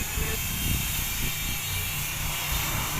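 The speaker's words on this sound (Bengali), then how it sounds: "এবার প্লেনটাকে ঠিক মতো ল্যান্ডিং করতে হবে।" A cartoon airplane coming in to land is heard as a steady, loud engine drone with a low rumble and a faint high whine, holding unbroken for a few seconds with no speech over it.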